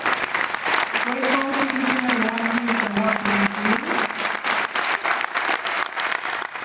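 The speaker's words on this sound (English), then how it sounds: "if they could stand up so we could acknowledge them and give them a round of applause" A town hall audience in Waltham gives a round of applause for a congresswoman's event, steady and full clapping throughout, with a voice briefly heard over it early on.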